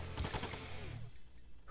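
Gunfire in the Command and Conquer Remastered strategy game, a quick burst of faint, rapid shots that fades out within about a second, followed by quiet.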